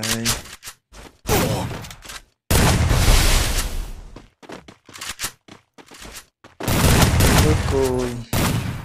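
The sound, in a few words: gunfire in a shooting video game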